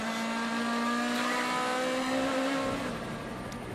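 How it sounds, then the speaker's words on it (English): DTM race car at the 2018 Hockenheim final, onboard, with a loud sustained engine note that falls in pitch as it brakes hard and drops through the gearbox, the revs sliding down in steps. "Heavy braking now down through the gearbox, as you can hear."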